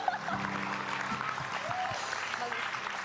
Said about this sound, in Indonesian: Udah jangan berlebihan tepuk tangannya